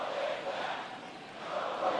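A stadium crowd in the MLB The Show 24 baseball game, Mets versus Yankees, roars steadily after a home run, a broad loud cheer that swells again toward the end.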